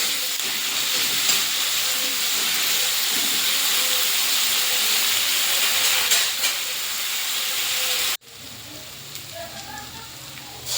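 Onions softening with a pinch of salt in a pan for badami aloo dum give off a steady, fairly loud sizzling hiss that stops abruptly near the end, leaving faint quieter frying.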